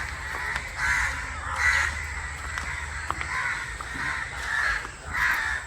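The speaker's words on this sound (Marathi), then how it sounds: "आवाज बघा पक्ष्यांचा कसा येतो" Crows caw repeatedly at a boat jetty, several harsh calls spaced out over a steady background hum, fairly close.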